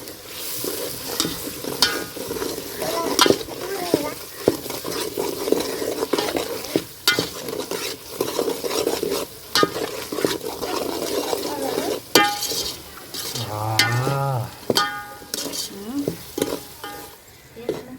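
Masala with chilli and salt stirred and fried in a pan, a continuous close sizzle broken by repeated spoon scrapes and knocks against the pan, with a brief murmur of talk near the end.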